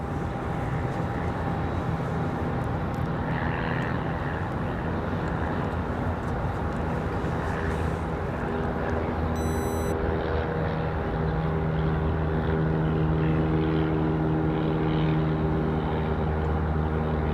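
Airliner landing on runway 5 left at Raleigh-Durham International Airport, a steady distant engine roar with droning tones that hold and shift as the plane comes in, while a brief beep sounds partway through.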